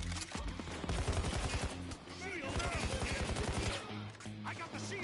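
Video game gunfire with flechette rounds: rapid bursts of automatic shots crackle close and loud, pausing briefly before another burst, over steady background noise.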